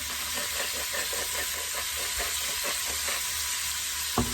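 Meat browning in a pan for a Mexican dish, seasoned with salt and pepper, gives a steady close sizzle with faint stirring scrapes and one brief knock near the end.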